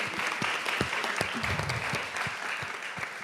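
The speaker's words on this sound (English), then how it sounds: "Can we have a massive round of applause for that?" A conference audience applauding in a room, sustained dense clapping with a few louder individual claps standing out, steady throughout at close range.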